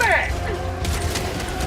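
Gun reloaded with a fresh magazine in a video game, a quick clatter of metallic clicks and a short mechanical slide, close and crisp, with faint background sound behind it.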